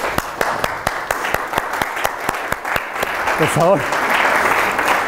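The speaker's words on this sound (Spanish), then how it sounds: "se levanten y les demos todos un aplauso" Audience clapping in a lecture hall at a Spanish astronomy talk, steady applause filling the room while a speaker's voice continues over it.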